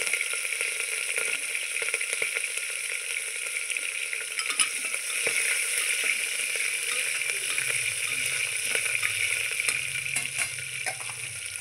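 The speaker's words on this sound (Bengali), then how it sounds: "তেল গরম হয়ে গেছে, এখন আমি দিয়ে দিচ্ছি পাঁচ ফোড়ন। আর দিচ্ছি কাঁচা লঙ্কা।" Panch phoron spices and green chillies sizzle steadily in hot oil in a pan, a loud continuous frying hiss with occasional faint stirring clinks throughout.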